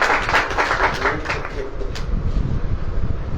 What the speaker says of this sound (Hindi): तो ताली वाली बजेगी।